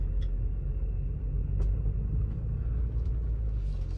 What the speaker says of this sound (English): let's take it for a quick test drive.